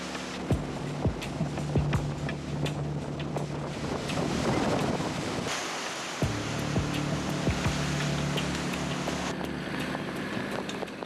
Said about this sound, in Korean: 파도도 점점 거세진다.